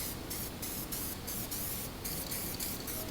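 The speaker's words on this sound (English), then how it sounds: "I'm gonna spray a little bit on here." Black guide coat sprayed from a can onto a body repair panel, short bursts of close, airy hissing spray in a quick repeated rhythm.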